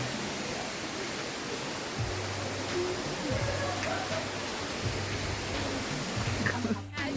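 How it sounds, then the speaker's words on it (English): The Torallie Waterfalls in Soufriere, St Lucia, give a steady, close rushing roar of falling water that stays even throughout, with faint voices low underneath. "So right now we're at the Torallie Waterfalls."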